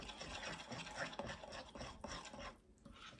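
Chocolate chip parfait ingredients stirred together in a bowl, giving a steady, continuous scraping and rubbing texture of a utensil moving through the mix, close and fairly quiet, with no talking.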